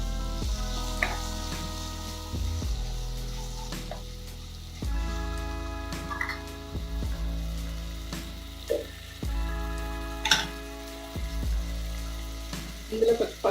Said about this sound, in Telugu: ఆయిల్ వేడైనాక ఈ మసాలా అంతా పేస్ట్ వేసి పెట్టుకుని ఫ్రై చేసుకోవాలి